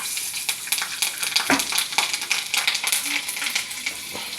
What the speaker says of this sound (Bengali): কালো জিরেটা একটু হয়ে এলে একটা দুটো একটু তেলে দিয়ে দিলাম লঙ্কা